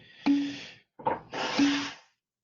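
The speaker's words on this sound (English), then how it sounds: "So I'm just going to blow my nose quick." A person blows their nose up close, two forceful, breathy honking blasts separated by a brief pause, with no talking.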